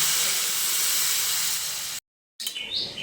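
Steady loud hiss of steam as water is poured into a hot pan of jackfruit curry, cut by a brief silence and then resuming with bubbling sputter.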